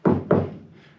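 Two quick, dull knocks land on the door panel of a VW bus after soundproofing, giving solid, deadened thuds close up, with a brief fading tail.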